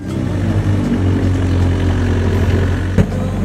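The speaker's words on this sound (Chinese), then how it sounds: "这个小三轮车真的是给力啊" A small motor tricycle's engine runs steadily at close range on a rural house-building site, a low, even idle with one brief knock near the end.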